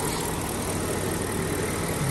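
A 2008 BMW X5 4.8i E70 with the N62 V8 engine idling during an engine flush, a steady, even broadband hum with no knocks or irregularities, continuous and close for the whole stretch.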